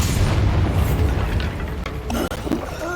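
In the Hogwarts Legacy video game, the Bombarda blasting spell sets off a deep, rumbling explosion that rolls for about two seconds, followed by a few sharp magical tones.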